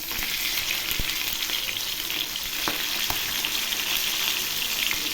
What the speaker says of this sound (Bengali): এক পাশ ভাজা হয়ে গেছে,